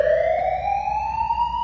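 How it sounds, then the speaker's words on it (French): A loud fire alarm wails steadily, its single tone rising slowly in pitch without a break. "C'est sûrement l'alarme incendie"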